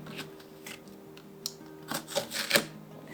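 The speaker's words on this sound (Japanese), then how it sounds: "外側からヘラを当ててこっちでカットしていきます" A utility knife slicing through wallpaper along a metal spatula held against the wall, heard as a series of short scratchy cuts and scrapes that grow louder toward the end, with no talking.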